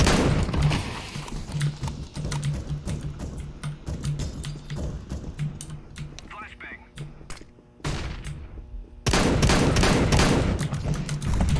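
Rapid gunfire from auto sniper rifles in a Counter-Strike: Global Offensive match, loud repeated sharp shots in bursts with brief gaps, a short quiet stretch before the firing resumes heavily.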